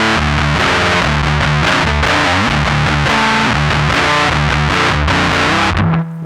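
An electric guitar run through the fuzz 1 setting of a Zoom Fire 7010 amp and effects processor plays a loud, saturated riff of rhythmic chords and notes for about six seconds, then cuts off abruptly.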